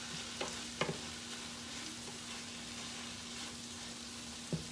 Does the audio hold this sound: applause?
no